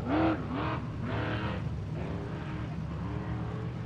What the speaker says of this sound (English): it's Marcus Gomez roaring off the line now